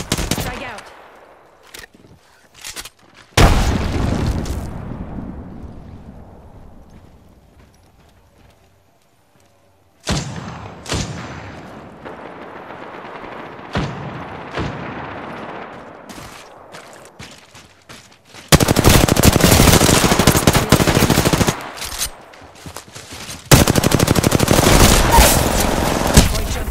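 Loud bursts of automatic gunfire in an Apex Legends firefight, starting with scattered shots and building into sustained, dense sprays toward the end, with brief talk between volleys.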